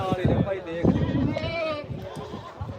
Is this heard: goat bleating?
yes